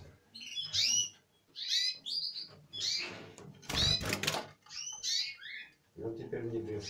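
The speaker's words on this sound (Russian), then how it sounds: "а вот это воробьиные попугаи зеленые" Green parrotlets chirp in several quick bursts of high, scratchy tweets, close by, with pauses between calls and a voice speaking near the end.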